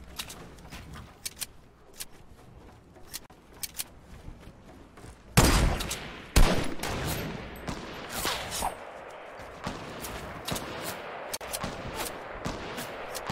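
Gunfire in a Fortnite random squads match, sparse distant shots at first, then a loud close burst followed by sustained rapid firing and scattered impacts, with no one speaking.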